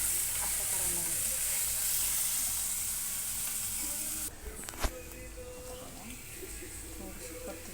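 Chopped raw onion sizzles steadily in a hot pan for chicken curry, a continuous bright frying hiss that drops off partway as it is stirred, followed by a few clinks.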